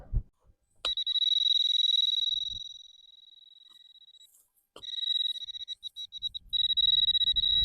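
While searching the flat rocks of Newfoundland, a metal detector lets out a sustained high electronic tone when it rings up around 80. The tone fades and then returns as a stuttering, pulsing beep, with light handling noise underneath.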